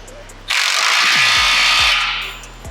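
A power tool runs steadily for about two seconds, tightening an exhaust clamp on an AWE exhaust being fitted to a BMW G8X M3/M4, close and loud, with a few ratcheting clicks beneath.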